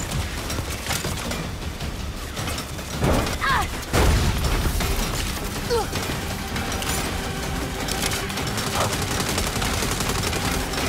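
Turret gunfire rattles almost continuously during a convoy mission in Saints Row, dense and steady, mixed with explosive thuds, mechanical clatter and other busy game noise.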